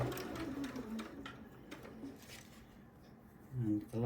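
Sewing machine stitching a Japanese-fabric shadow quilt, slowing as it nears a joining seam; a steady, moderate mechanical whir with a brief louder burst at the end, a voice talking over it.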